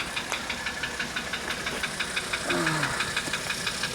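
A 1985 Mercedes 300D diesel idles with a rapid, steady metallic knock ticking over a rough engine drone, close and continuous for a few seconds.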